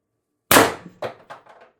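A single shot from a Pistelle X-68 air gun fitted with an HD24 short ASA, a sharp, loud crack followed by a few quickly fading metallic echoes or rattles within about a second.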